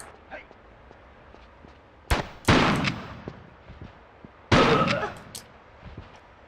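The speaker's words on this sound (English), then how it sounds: "I'm going to blow him out of the way with my shotgun again." Two heavy shotgun blasts from Tomb Raider 3, each a sharp, loud crack with a short decaying tail, fired about two seconds apart over quiet game ambience in the Antarctica level.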